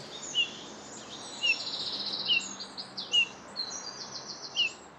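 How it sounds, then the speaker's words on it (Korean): Birds sing in the distance in a forest with fallen leaves, a series of high chirps and short trilled phrases repeating every second or so over quiet outdoor ambience. "새소리 어디서 나?"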